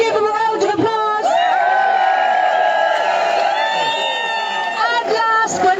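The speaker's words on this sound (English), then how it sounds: "can we give them a round of applause?" Crowd at a street protest in Cork clapping and cheering loudly, with whoops and shouts building into a sustained roar close by, and voices heard at the start and end.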